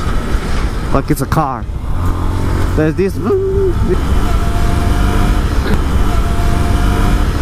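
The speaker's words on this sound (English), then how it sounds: "And the bike makes a sound like it's a car." A Yamaha R15 motorcycle engine drones in a steady low hum while being ridden, with rising revs and shifting tones near the start and a rider talking over it.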